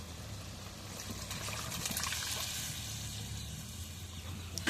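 Boiled split chickpeas tipped into a pot of browned goat meat curry, a steady, moderately faint wet trickle and pour running throughout with no talk.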